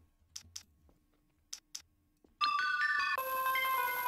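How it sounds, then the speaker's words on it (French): A mobile phone ringtone starts loudly and abruptly partway through and plays on as a bright electronic melody, following a few quiet clicks and taps. "Zéro, ton téléphone il fait bip bip, réponds putain de merde."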